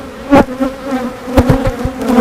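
Honeybees buzz on frames pulled from a hive, a close, steady drone with sharp passing swells and knocks as frames are handled.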